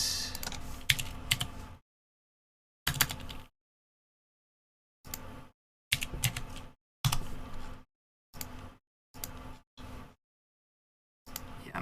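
Bursts of typing on a computer keyboard during custom keyboard PCB and case design work, clicking in several short clusters of keystrokes separated by complete silences, close and fairly quiet.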